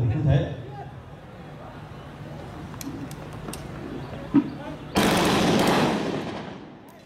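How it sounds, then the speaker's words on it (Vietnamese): Gunfire from police trainees during a firing drill at a training course, a few faint distant shots under an announcer's voice, then a sudden loud burst of rapid fire near the end. "vừa vận động vừa nổi súng"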